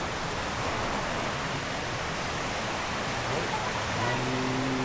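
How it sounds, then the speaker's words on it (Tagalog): Heavy rain falling at a house, a dense, even, loud roar of broadband noise with no breaks, with a faint hum and a brief murmur of voices near the end. "Ang lakas ng ulan."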